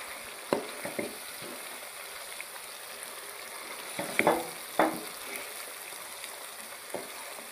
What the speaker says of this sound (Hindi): मैं अदरक लहसुन और प्याज के मिसाले के अंदर मैं इसको गोश्त को भून रहा हूँ